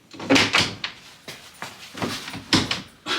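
A door being pushed open in a run-down, abandoned property, with a quick series of close knocks and scraping thuds, and no talking.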